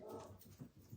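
A single dog gives a few short, faint yips and whimpers at a distance, quiet and breathy rather than full barks.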